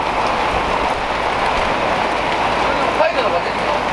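Steady rain falls outdoors in dim early-morning light during a professional tour competition, a dense, even hiss that holds for the whole stretch with no clear voices.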